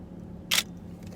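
A single crisp click of a camera shutter firing at ISO 400, shutter speed 1/2000 and f11, a short bright snap in a quiet room with a low steady hum underneath.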